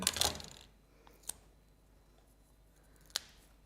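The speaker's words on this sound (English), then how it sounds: "So let me just cut that in, snip that in two." Scissors snip a foam pad in two: a close burst of crisp cutting at the start, then two more short, sharp snips spaced apart in a quiet room, with no talking.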